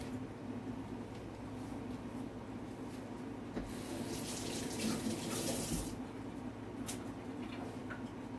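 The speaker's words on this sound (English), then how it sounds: "let me just wash off my garlic and my onion" Tap water runs steadily into a sink while garlic and onion are rinsed under it, a close, continuous splashing hiss that grows briefly louder and brighter midway.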